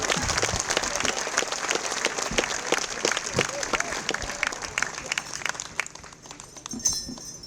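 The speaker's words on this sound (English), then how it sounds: "How about a round of applause?" An outdoor crowd at a festival opening ceremony claps in sustained, dense applause that fades toward the end, with an announcer's voice over it.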